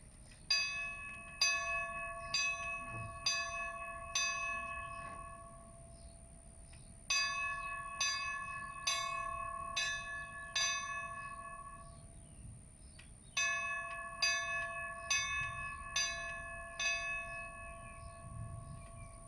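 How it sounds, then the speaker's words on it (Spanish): A bell tolls as a farewell at a firefighters' memorial, with groups of evenly spaced, ringing strikes, each leaving a long humming decay, separated by short pauses and heard from a moderate distance over low background rumble. "Hoy tocamos esas campanadas como despedida a los instructores fallecidos."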